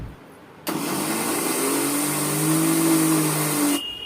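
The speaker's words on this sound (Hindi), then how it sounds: "अब इसको पीस लेती हूँ मिक्सी में" A kitchen mixer grinder grinds bitter gourd peels in its jar for juice, a loud steady motor whir that starts abruptly, holds for about three seconds with a rising whine, then cuts off.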